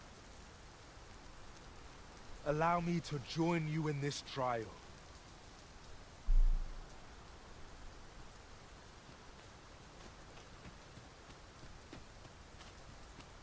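Heavy rain hisses steadily in the Dragon's Dogma 2 video game, a soft, even wash of falling water that continues beneath a short stretch of talk and a brief thump.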